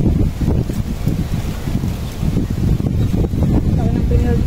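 Wind buffets a microphone outdoors at a picnic, producing a steady, loud low rumble with gusty swells, while people talk underneath.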